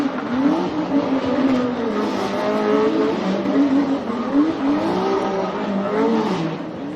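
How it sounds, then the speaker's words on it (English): Formula Drift car spinning celebratory donuts at a Formula Drift Championship round in Orlando, a steady roaring engine with wavering pitch and tire squeal, heard somewhat distant and continuous. "And some celebratory donuts for Chris Forsberg."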